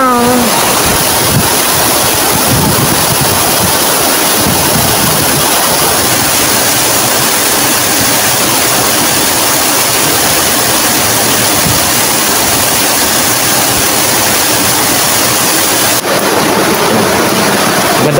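Balagbag Waterfalls in Real, Quezon roars with a constant, loud broadband rush of falling water, steady and close from start to finish with no break.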